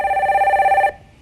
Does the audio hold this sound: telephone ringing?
yes